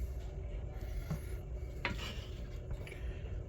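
Kitchen items on a counter are shifted aside to reach a big spoon, making soft rubbing and a couple of light clinks, quiet and close.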